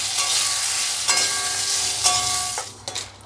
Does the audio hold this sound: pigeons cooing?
no